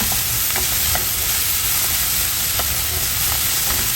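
Minced garlic stir-fried in a hot pan for a Chinese won ton and yuk sung filling sizzles in a steady, loud hiss, with light scraping clicks from constant stirring.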